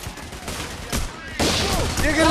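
Gunfire in the heist shooter PAYDAY: The Heist crackles in short bursts that grow into a louder sustained volley, with a voice briefly shouting over the shots.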